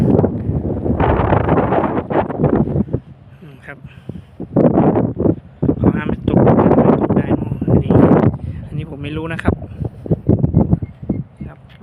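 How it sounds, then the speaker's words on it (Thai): Wind gusts outdoors at Lam Takhong Dam in Thailand, buffeting the microphone in bursts under someone talking throughout. "ลมเย็นสบายมากครับ"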